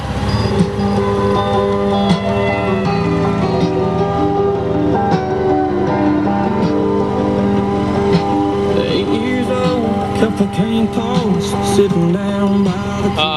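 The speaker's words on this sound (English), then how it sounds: "Starts right up, as all of these Goldwings do." A 2004 Honda Goldwing GL1800 trike with a Champion kit idles loud and close, its engine drone steady and rumbling through the whole stretch, with no voices over it.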